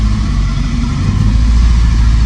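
A 1977 BMW 320i idles up close, its engine a loud, steady low rumble that holds evenly and swells slightly toward the end.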